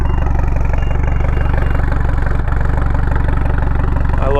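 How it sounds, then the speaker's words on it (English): A 2013 Mitsubishi Lancer Evolution X GSR with the turbocharged 4B11T engine idles steadily and close up, a smooth but throaty rumble with a faint high turbo whine running through it. "You can hear the turbo whistle at idle."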